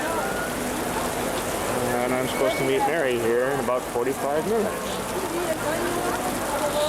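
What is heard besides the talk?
heavy rain falling on a street in Florence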